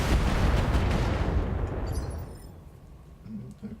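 A mech weapon fires in the BattleTech video game with a loud, sustained explosive roar that fades over a few seconds. No voices are present.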